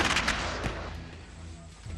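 Cannon fire in a Revolutionary War battle at Saratoga against Burgoyne's lines, a heavy boom that fades into a long rumbling decay, loud and close.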